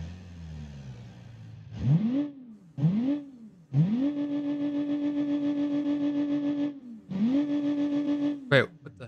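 A 1990s minivan engine in the BeamNG driving game cranks and catches a few times, then idles and revs steadily in a rising and settling drone, with a sharp burst near the end and no talking over it.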